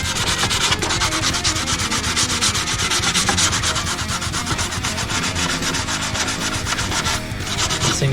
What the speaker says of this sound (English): So I'm just bringing some of that out through the green here with the sandpaper.